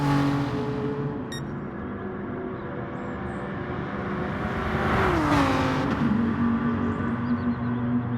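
A Lamborghini race car in a racing game holds a steady, loud engine drone at speed, rising in pitch and swelling midway as it pushes down a long straight, alone with no talk.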